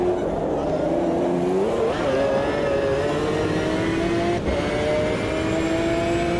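V12 BMW LMP prototype race car in Automobilista 2 revving hard with a steady, rising engine whine that climbs and shifts pitch, loud and continuous throughout.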